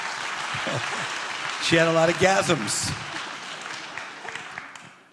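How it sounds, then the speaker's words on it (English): An audience gives brief applause, a soft spread of clapping behind a speaker who keeps talking through it. "Clap for her."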